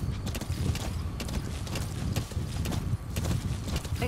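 A horse gallops in Metal Gear Solid 5 Phantom Pain, its hooves pounding in a fast continuous rhythm up close, mixed with faint mechanical game clatter, with no talk.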